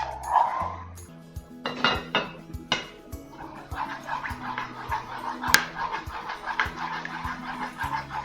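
A utensil stirs a mixture in a saucepan, scraping and clinking against the metal in an irregular rhythm. Soft, close, with some handling knocks.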